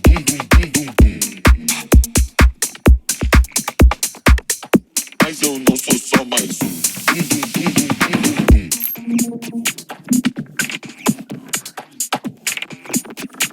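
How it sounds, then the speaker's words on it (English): Glitchy minimal deep tech percussion loop: punchy low kicks and clipped, stuttering clicks and hats in a tight fast rhythm, loud and dry with a dense choppy texture throughout, no voices. "5 ways to create amazing glitchy percussion in your minimal deep tech tracks"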